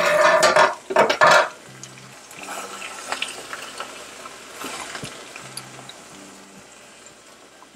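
Pistachio (egusi) sauce for Cameroonian spinach simmering gently in a pot and stirred: a few loud scraping strokes at the start, then soft bubbling and faint clinks, with no talking.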